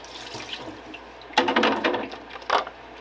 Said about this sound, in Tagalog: Maghugas muna tayo mga nanay.